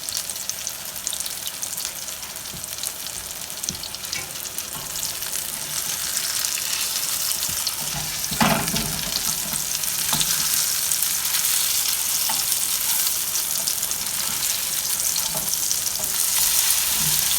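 Lentil patties frying in a pan give a steady, close crackling sizzle that runs throughout, with a few brief clatters and pops of utensil contact partway through.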